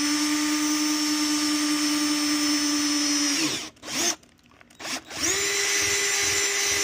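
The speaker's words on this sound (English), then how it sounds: "Take your drill. Just make sure you got a good hold on it." A power drill bores a hole in a plastic hand pump sprayer, a loud steady whine that winds down, stutters through a few short bursts, then spins back up to full speed.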